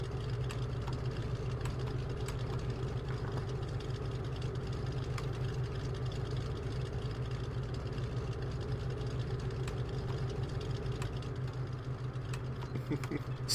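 Tractor engine in the game STALKER runs in a steady low idle-like drone, constant and close, with small clicks scattered over the top and no talking.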